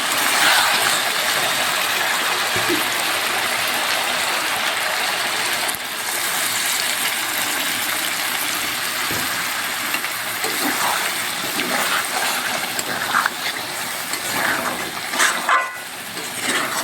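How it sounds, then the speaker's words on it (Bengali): Water pours into a pan of cooked, well-browned chicken, making a loud, continuous gushing rush that runs almost unbroken for the whole stretch. "এখানে পানি দিয়ে দেবো।"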